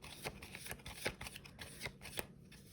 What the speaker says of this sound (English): I go ahead and start shuffling